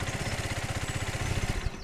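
A tractor-style vehicle engine runs steadily in Farming Simulator 25, a low pulsing drone with a regular chugging rhythm that holds constant, then cuts out abruptly near the end.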